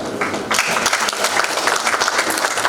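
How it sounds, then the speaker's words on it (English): Dense, steady applause from a crowd fills the space, sustained clapping after a brief quieter start. "I want you to give yourself a big round of applause"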